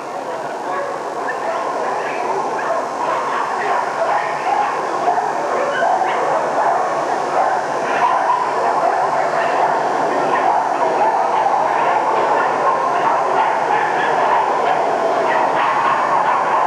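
Dogs at a dog show ring, with yips, whimpers and barks scattered through a steady crowd hubbub that stays loud and continuous throughout.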